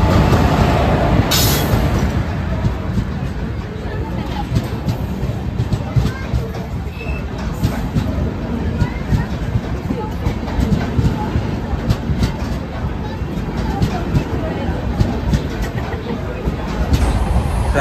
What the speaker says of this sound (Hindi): ट्रैवल शुरू हो चुका है जनशताब्दी एक्सप्रेस से, होपफुली जल्दी पहुंचा दे।